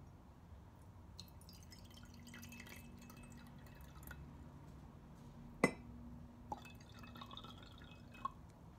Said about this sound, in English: gonna pour half a cup of water into the pot to start out with